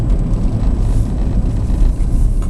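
A red Citroen C-Zero electric car picks up speed, heard as a loud, steady, low road-and-wind rumble from inside the car, continuous with no voices.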